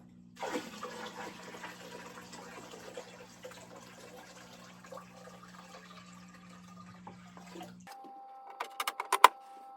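Water pours steadily from a bucket into a home fish tank in a soft, continuous splashing stream for several seconds. It then stops, leaving a few faint clicks and knocks.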